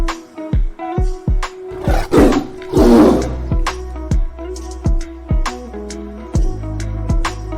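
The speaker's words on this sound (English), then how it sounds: "Wow, tiger." A tiger roars in a series of loud, close, deep growling bursts, about a dozen in a row, rising to a few longer, harsher roars near the middle, with no talking.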